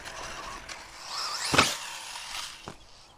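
A Traxxas Slash 2WD radio-controlled car's motor whines up as it runs at a ramp, then a sharp clatter as it lands, and a smaller knock follows; close and fairly quiet, with no voices.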